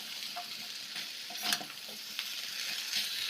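Pumpkin, potato and Malabar spinach are sautéed with spices in a pan, giving a soft, close sizzle with a few brief stirring scrapes and knocks, fairly quiet, with no talk.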